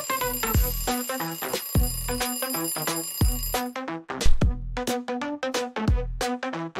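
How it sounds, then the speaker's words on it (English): An alarm rings in rapid, bright metallic bursts over a bouncy musical beat, loud and continuous, with a short pause partway through. "A is for alarm."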